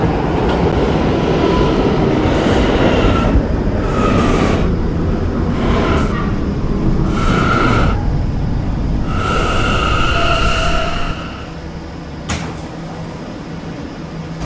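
An R179 D subway train in the Roblox game PTA Subway on the 5th Avenue Lines rumbles steadily along the track, with recurring higher whines and clunks over the running noise before it eases and quiets near the end.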